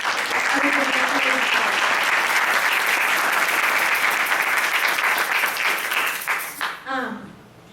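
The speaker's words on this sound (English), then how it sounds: "a round of applause for all the volunteers" Steady, full applause from an assembly audience thanking volunteers at a Sunday gathering, dense clapping throughout that tapers off as a voice begins to speak near the end.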